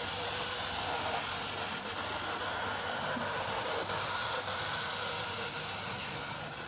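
A 1983 Hornby HST 125 model train runs on its track with a continuous low whirring rumble, struggling somewhat while running in the reverse direction; the sound is steady and fairly faint.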